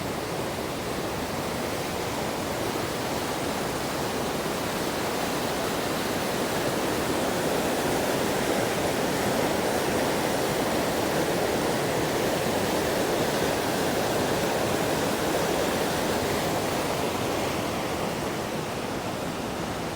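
High-volume water pours over Hogenakkal falls in a continuous, loud roaring rush, an unbroken broadband wash of heavy flow, close and steady, with no voices.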